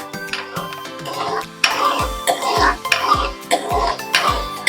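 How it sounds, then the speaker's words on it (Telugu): A fried tempering is poured into tomato chutney and then stirred, giving repeated scraping and clinking strokes of a spoon against a vessel in a steady rhythm, close and fairly loud, with no speech. "అప్పుడు పచ్చడిలో పట్టుకెళ్ళి తిరగబోసేసుకోవడమే."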